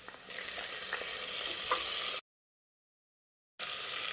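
Green chillies hitting hot oil with cumin and garlic, a loud steady sizzle with faint stirring clicks that cuts out abruptly into silence partway through, then resumes just as loud.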